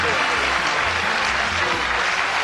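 Studio audience on the 1982 game show Bullseye applauds the winning contestants, a steady, dense wash of clapping that fills the whole stretch at close range with no pause.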